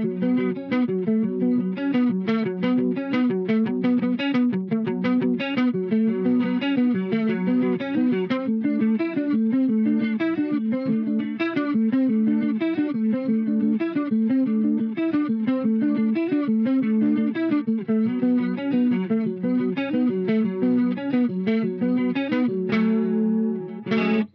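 An electric guitar played through a VHT Pittbull Fifty/Twelve amplifier with a light chorus effect rings out a continuous, dense stream of chords and picked notes, loud and close throughout with no speech.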